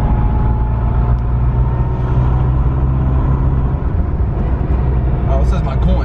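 A built MK7 Golf R pulling hard in third on a dog-box gearbox, a loud, steady engine drone with dense road and drivetrain noise heard from inside the car throughout.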